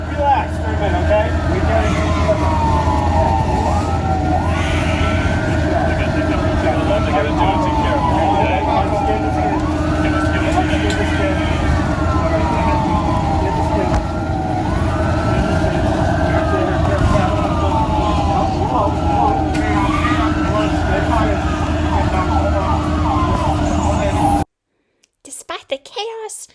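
A wailing siren sweeps up and down repeatedly over the constant rumble of a moving ambulance, loud and steady throughout with voices talking underneath, cutting off abruptly near the end.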